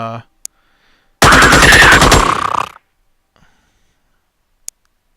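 A single loud burst of automatic gunfire in the tactical strategy game Xenonauts, rapid shots fanning out from weapon kick for about a second and a half, set between near silence and faint clicks.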